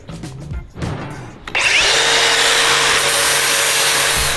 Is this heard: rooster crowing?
no